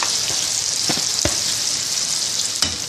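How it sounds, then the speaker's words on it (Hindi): Onions hit very hot oil and sizzle loudly, a bright continuous close hiss with a few soft crackles and spoon taps. "अब मैं इसके अंदर प्याज ऐड कर रही हूँ"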